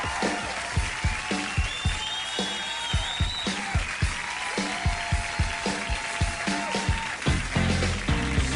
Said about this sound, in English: The audience applauding along as if this were a hoedown